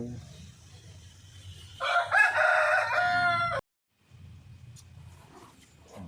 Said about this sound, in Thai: เสียงนก เสียงไก่ ธรรมชาติสุดๆแล้วจ้ะ